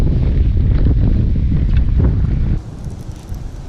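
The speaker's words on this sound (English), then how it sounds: "Wind's starting to really funnel through here." Loud, rough wind gusts funnel across a creek, buffeting the microphone in a heavy roar that drops suddenly near the end to a lighter rustle.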